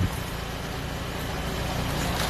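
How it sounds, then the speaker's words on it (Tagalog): A Toyota Camry's radiator fan motor runs as a steady, continuous whir layered over low engine rumble, holding an even level throughout with no voices. "Ayan, yung fan motor umaandar na. Gumana na po yung automatic ng kanyang thermostat."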